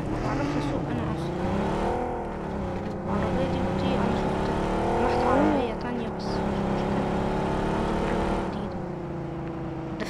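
Car engine driving in the video game PUBG, a steady revving drone with shifting pitch and rises through gear changes, running continuously close by with talk over it.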